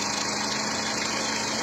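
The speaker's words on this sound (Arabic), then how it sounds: "هذا الموتور ديال الصديق ديالي، الطوموبيل ديال الصديق ديالي، ها هو كيفيم واحد شويه" A friend's car engine idles steadily with a slightly uneven, rough running note, close and continuous throughout under a constant mechanical hum.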